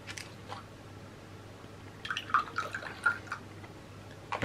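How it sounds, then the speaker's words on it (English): Vinegar is poured into a glass, a faint, short liquid trickle with a few soft drips midway, heard quietly over a low background hum. "First, I'm going to pour some vinegar in the glass."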